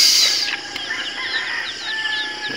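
Farmyard chickens cluck and squawk close by, with a loud bird cry at the start followed by repeated shorter clucks and calls over a faint outdoor background.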